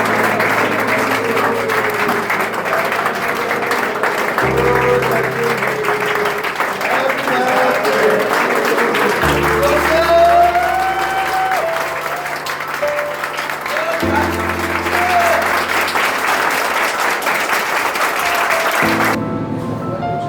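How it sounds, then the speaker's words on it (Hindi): An audience at a drug de-addiction rehabilitation centre gathering claps for a long time: dense, sustained, loud applause from many hands that fills the whole stretch without letting up, with a faint tonal sound running underneath. "एक बार फिर से ताली के साथ।"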